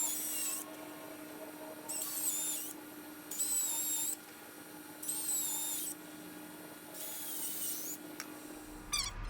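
A power drill runs in five separate bursts of roughly a second each, drilling holes for a Zipwake interceptor installation on a boat, with high whining spin-ups and short pauses between against a steady background hum.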